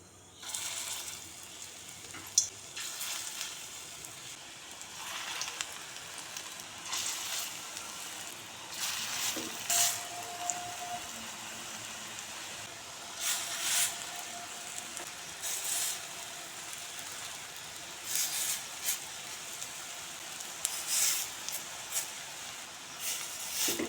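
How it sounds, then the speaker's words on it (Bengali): Small red lentil fritters frying in hot oil in a wok give a low steady sizzle, punctuated by bursts of louder crackling and a few light metallic taps. "তেল গরম হয়ে গেছে এবার বড়া দিয়ে দেবো"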